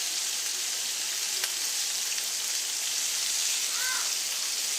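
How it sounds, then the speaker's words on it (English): Food frying in a pan gives a steady, bright, close sizzle that holds evenly throughout, with no voices over it. "Y'all hear that sizzle?"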